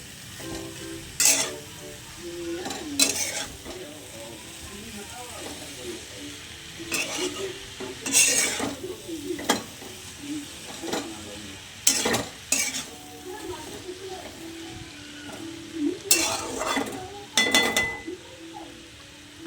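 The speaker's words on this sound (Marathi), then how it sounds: "तर तेल गरम झालेलं आहे आपण यामध्ये भाजी टाकून घेऊ टाकून घेतलेली आहे आपण याला थोडंसं हलवू" Amaranth greens stir-frying in hot oil: a soft continuous sizzle broken by repeated scraping stirs and clinks of a spatula against the pan, close by, with no talk.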